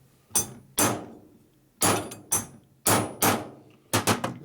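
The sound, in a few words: hammer tapping part into Harley engine case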